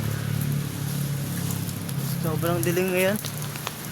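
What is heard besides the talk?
light rain falling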